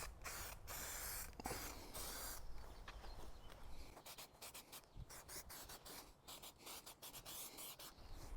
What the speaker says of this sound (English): I just did the first coat of clear coat.